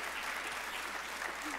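Continuous, even applause from a commencement ceremony audience, a dense wash of many hands clapping at steady loudness throughout, with no voices standing out.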